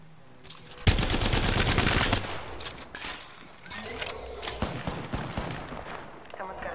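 Rapid automatic gunfire from an Apex Legends firefight erupts in a loud dense burst, then continues as scattered shots and impacts, with voices talking over the action.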